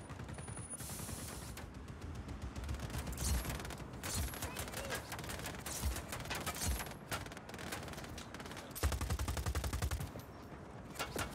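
Explosions and gunfire in the Just Cause 4 video game: a dense, loud stretch of rapid crackling blasts and booms, with a heavier burst near the end.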